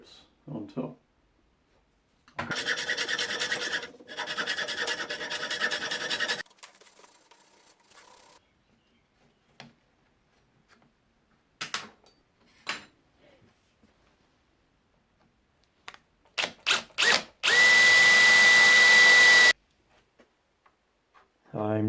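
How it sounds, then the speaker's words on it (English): Circular saw on a crosscut sled cuts aluminium bar, several loud whining bursts with gaps between, a long harsh steady cut near the end, plus scattered clicks and knocks. "So now it's time to cut some aluminium bar"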